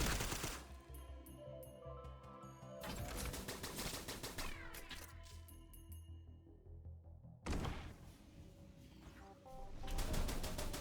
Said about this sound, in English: my ears get slightly tired of the rapid fire sound